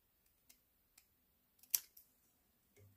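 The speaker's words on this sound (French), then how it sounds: "Je vais découper à l'œil." Scissors snipping paper by hand, a few faint soft snips spaced apart followed by a louder sharper cut and a brief rustle, alone in a quiet room.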